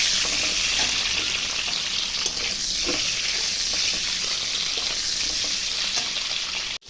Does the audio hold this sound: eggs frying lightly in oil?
yes